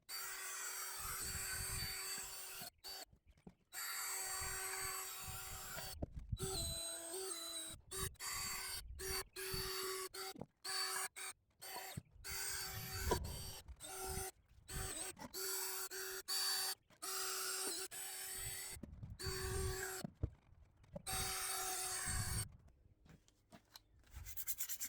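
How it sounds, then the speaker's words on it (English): A flap wheel sands the spokes of aluminum truck wheels, giving a steady abrasive rubbing whir in repeated passes, broken by many short pauses as the tool lifts off the metal. "this flapper wheel turned out to be just the perfect thing to reach those"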